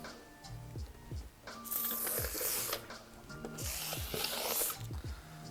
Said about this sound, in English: just run some silicone spray along the edges